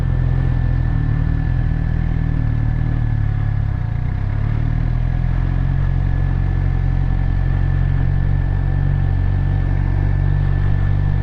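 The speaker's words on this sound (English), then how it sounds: "So first I'm gonna get to second gear, and I'm gonna do a quick brake, get into first gear, do a quick takeoff." A Suzuki GSX-R 600 motorcycle engine runs steadily and loudly up close throughout, with a brief dip in revs partway through as the rider brakes hard and pulls away again in low gear.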